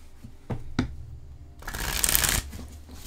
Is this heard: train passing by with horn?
no